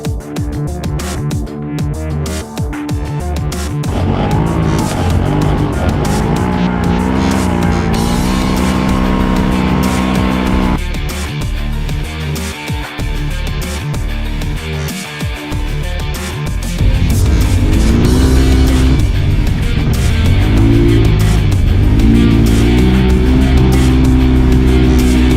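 UTV race cars tear across a dusty desert course in an off-road championship, with engines roaring loud and steady, revving up and down through gear changes, and no talk over them.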